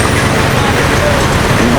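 Street traffic of old cars in the Philippines, a steady, loud roadway rumble of engines and passing vehicles with a continuous low drone and no breaks.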